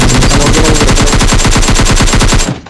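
Rapid automatic gunfire in the PUBG Mobile video game, a loud, close burst of evenly spaced shots over about two and a half seconds, cutting off abruptly at the end.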